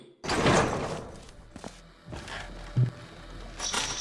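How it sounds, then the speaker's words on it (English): A door opens in the video game Aperture Tag, heard as a loud mechanical whoosh and thump, followed by a short clunk near the end and a final hiss. "Oh, the door. Let me get that for you."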